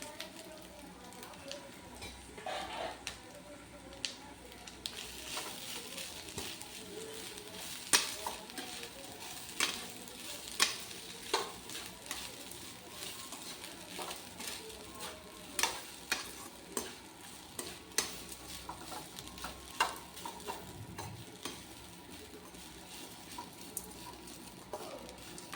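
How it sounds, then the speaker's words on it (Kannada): Grated coconut stirred and fried in a pan for a Brahmin-style cucumber huli made without onion or garlic: a steady low sizzle under repeated scraping strokes of a spoon against the pan, with light clinks scattered throughout. "ಈಗ ಇದಕ್ಕೆ ಕಾಯಿ ತುರಿ ಹಾಕಿ ಮಿಕ್ಸ್ ಮಾಡ್ಕೊಳ್ಳಿ."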